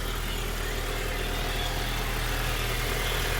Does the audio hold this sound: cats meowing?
no